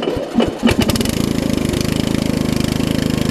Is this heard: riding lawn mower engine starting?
yes